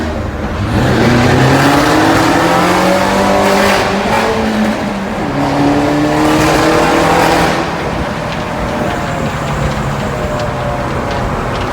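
A Mini Cooper engine revs loudly and repeatedly, pitch sweeping up through several climbs and falls, close and powerful with a rough, roaring tone.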